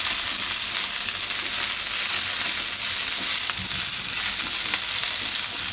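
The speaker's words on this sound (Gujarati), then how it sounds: "બ્રોકલીને થોડીક વાર પાકવા દઉં આમાં" Broccoli cooking in a pan for tomato broccoli pasta, a loud steady sizzle and frying hiss that runs throughout with faint stirring scrapes, no talking.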